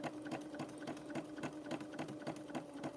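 A new sewing machine stitching the lining of a crocheted bag, running at a steady pace with a rapid, regular mechanical clatter, close and alone.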